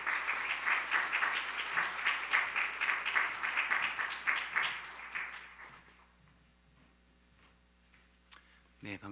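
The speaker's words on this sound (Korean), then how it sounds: "함께 나오실 때 박수로 환영하도록 하겠습니다." A church congregation claps to welcome a missionary speaker, a fairly soft, rhythmic applause with pulsing beats that fades out after about five seconds, followed by near silence and faint sounds.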